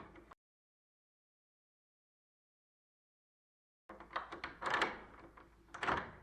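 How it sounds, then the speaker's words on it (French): Old door with a rusty key in its lock, a short clunk at the start, then after a silence a burst of creaks, knocks and rattles as it swings open, fairly close and moderately loud. "La porte s'ouvrit brusquement."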